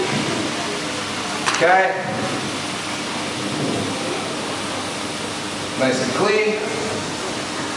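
Lobster sizzles and hisses steadily in a hot sauté pan, with two louder bursts as it is tossed, while a person speaks briefly over the cooking.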